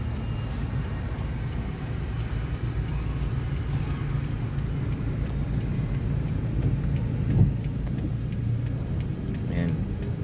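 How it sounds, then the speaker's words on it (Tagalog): Road traffic on a rainy Thursday drive: a constant low rumble of passing cars and engines that goes on throughout, with a brief louder swell partway through and a voice speaking over it now and then. "Super traffic."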